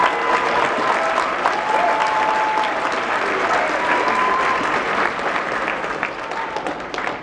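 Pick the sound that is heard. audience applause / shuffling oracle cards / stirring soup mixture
audience applause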